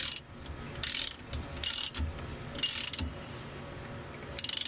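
Close, loud ratchet clicks in several short bursts as a wrench tightens the rear differential cover bolts on a Chrysler 300 or Dodge Magnum, with quiet pauses between the strokes.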